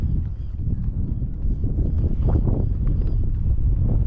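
Strong wind buffets the microphone outdoors on a fishing trip, a steady low rumbling roar that continues for the whole stretch with no voice over it.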